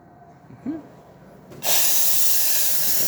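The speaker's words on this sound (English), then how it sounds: "Excellent steam coming out from the one" After a short snort-like sound, a loud broadband steam hiss bursts on and continues steadily, close and forceful, from the steam wand of an Alex Duetto espresso machine.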